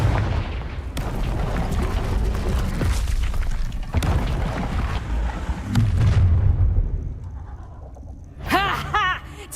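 A Confringo spell explosion in the Hogwarts Legacy video game: heavy booming blasts and crackling impacts roll through the scene, ending in bright ringing magical tones.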